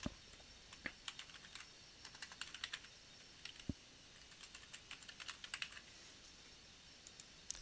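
Keys clatter on a computer keyboard as a web address is entered, with quiet, irregular bursts of individual keystrokes and short pauses between them.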